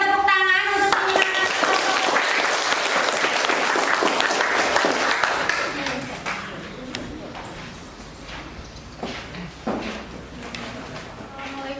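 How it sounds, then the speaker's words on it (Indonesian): Classmates in a school classroom give a burst of applause that is loud for about five seconds, then fades into scattered claps and small room noises. "Berikan tepuk tangan untuk teman-teman."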